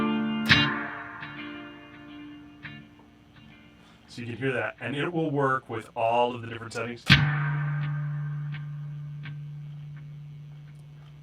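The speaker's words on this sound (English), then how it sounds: "Then the other thing that the original Echo did not have was a tap tempo." A guitar plays through a BOSS RE-202 echo pedal with tap tempo set, giving a few sparse ticked notes, then someone talking briefly, then a struck note that rings on in a long, fading echo tail.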